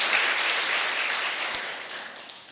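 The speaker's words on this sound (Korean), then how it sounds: "다시 한번 영광을 하나님께 돌리는 박수 하세요." A church congregation claps together in a steady, dense wash of applause that tapers slightly toward the end, loud and close, with no talking over it.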